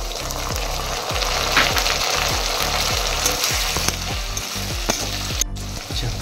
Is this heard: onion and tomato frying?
yes